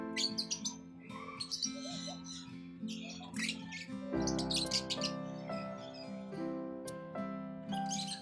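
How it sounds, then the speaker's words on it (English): A lovebird indoors gives bright, close chirps and squeaky tweets in quick bursts over a steady low hum. "Lovebird."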